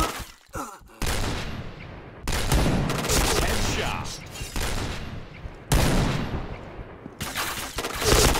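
Rapid bursts of gunfire in the online shooter Point Blank, several loud volleys of automatic shots separated by short gaps, close and dense, with faint voice in the background.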